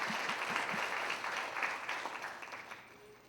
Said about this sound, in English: Let's just give a big round of applause to all family and friends who are here as well.